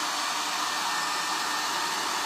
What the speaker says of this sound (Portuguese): Vou secar com o secador.